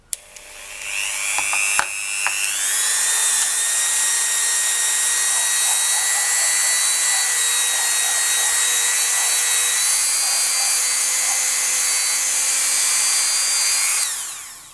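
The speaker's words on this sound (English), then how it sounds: "I'm going to continue buffing the whole piece" A power buffer polishes a polymer clay trinket dish coated in Renaissance wax, giving a steady, loud, high whirring drone that runs unbroken for most of the clip after a brief start-up, with no talking.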